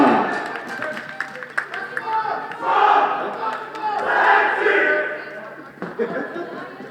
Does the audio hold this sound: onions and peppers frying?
no